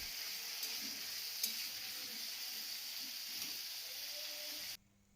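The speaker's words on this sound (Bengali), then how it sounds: "সবার প্রথমে আমি আলু একটু লাল লাল করে ভাজা করে নেব।" Potatoes frying in oil seasoned with salt and turmeric, a steady close sizzle with occasional stirring scrapes, running continuously before cutting off abruptly near the end.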